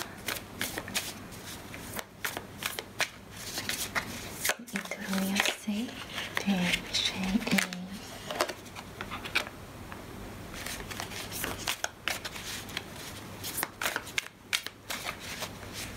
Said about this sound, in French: On me demande de mettre mes cartes de guérison sur chacune des cartes